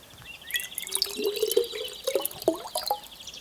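Milk pours and drips in a cartoon scene, a close, bubbly trickle of liquid splashing in a steady stream of small gurgles with no voices.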